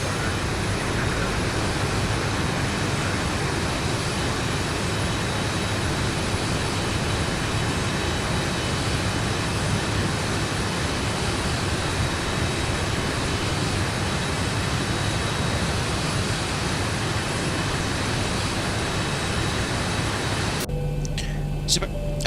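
Zibo 737-800 jet engines in X-Plane 12, a steady loud roar with broadband hiss and whine held for about twenty seconds before cutting off abruptly near the end.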